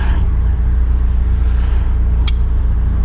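A McLaren sports car on the road, heard from inside as a loud, steady low engine drone and road rumble with no letup, broken by one brief bright click partway through.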